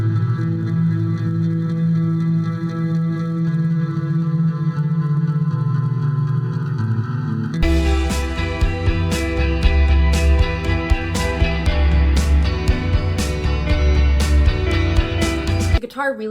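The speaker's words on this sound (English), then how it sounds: "I have this EHX Oceans 11 reverb pedal that I ran the bass guitar through" Bass guitar played through an EHX Oceans 11 reverb pedal, first sustained washy tones with long reverb tails, then a punchier section of repeated plucked notes over a deep low end, loud and alone.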